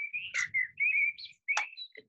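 Birds whistle and chirp in the background outdoors, a run of clear sustained tonal calls broken by short sharp chirps, fairly faint and with no talk over it.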